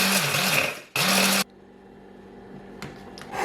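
An electric grinder buzzes loudly in two short bursts as it grinds roasted dandelion roots, with a hum between the bursts. Faint clatter and rustling follow after the motor stops.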